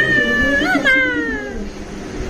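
A cat gives one clear, rising-then-falling meow near the middle, with a person talking throughout.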